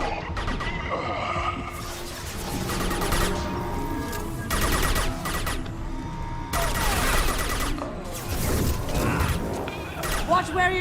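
Sustained gunfire and weapon effects from the sci-fi shooter Mass Effect 2, dense bursts rising and falling over about ten seconds, with voices talking over the combat.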